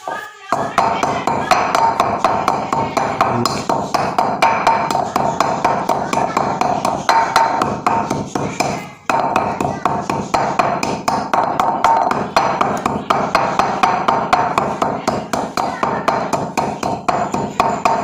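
A dry, woody ingredient for a pigeon flying remedy is pounded into a fine flour-like powder. Steady, rapid thuds repeat densely and loudly throughout, close by and with no break.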